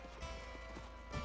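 Horse hooves clip-clop at a steady trot in the Red Dead Redemption video game, a repeated rhythmic beat of fairly close footfalls under a continuous game soundtrack.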